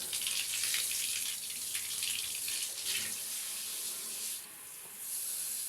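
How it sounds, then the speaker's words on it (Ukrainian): Steady hiss of water spraying from a filter shower head with replaceable cartridges and beads, continuous and fairly quiet, with a brief change in the flow near the end. "Вода проходить через фільтр, а також через дані кульки"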